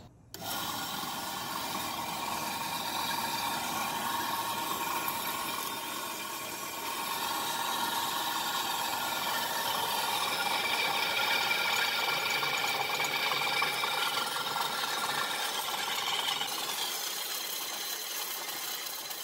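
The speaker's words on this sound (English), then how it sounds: "So I had to pull the bandsaw out." A bandsaw cuts large metal brackets outdoors under a covered carport, a steady continuous rasping whine that holds at an even level for the whole stretch, close by and loud with no voices.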